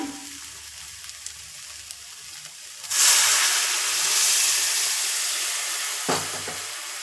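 Milk is poured and stirred into bread simmering in sugar syrup for bread halwa. A quiet background is followed by a sudden loud, sustained sizzle and hiss that slowly settles, with one brief extra burst near the end.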